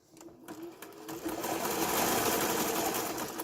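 A sewing machine runs a zigzag stitch on a fabric scrap, starting with a few quiet clicks and then a steady rapid mechanical whir that builds and holds, close by.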